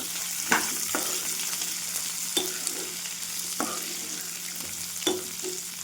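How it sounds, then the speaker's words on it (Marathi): Chopped onions sauté in a pan for a palak dish, a continuous sizzle with occasional scraping taps of a spoon stirring at an irregular rhythm. "कांदा पण आपल्याला छान परतून घ्यायचा."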